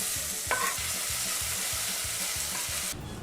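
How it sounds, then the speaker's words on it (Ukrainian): Carrot and onion sautéing in oil in a sauté pan, a steady close sizzle with regular, rhythmic stirring scrapes that cut to quieter frying near the end. "Моркву пасирую разом з цибулею"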